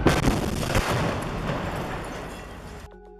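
Combat footage of a rocket fired at an Israeli tank in Rafah, Gaza, with a heavy blast and gunfire, a dense, loud roar of explosions and rattling shots that fades before cutting off abruptly.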